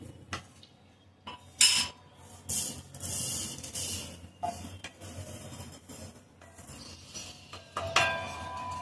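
Salt being dry-roasted in a pan for red chilli pickle, with scraping spoon strokes, gritty hissing swishes and occasional metallic clinks, close and fairly quiet with gaps between strokes.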